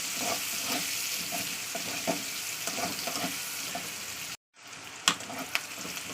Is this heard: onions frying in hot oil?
yes